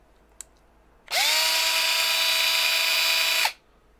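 A handheld power drill runs in one steady whine for a little over two seconds after a short spin-up, loud and close, with quiet room sound before and after and no talking.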